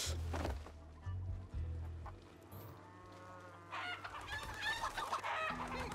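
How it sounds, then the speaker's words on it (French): A chicken clucks in the Desperados III video game amid farmyard sounds with cattle lowing, quick bursts of clucking at the start and again near the end over low ambient noise. "Maudite poule."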